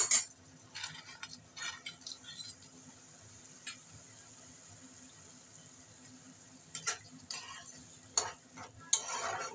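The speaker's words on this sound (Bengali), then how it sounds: "এবার আমি ডালের বড়িগুলো দিয়ে দিচ্ছি" Lentil dumplings (bori) added to a pan for a vegetarian ghonto, heard as quiet, intermittent sputtering bursts of frying with calmer gaps in between and no speech.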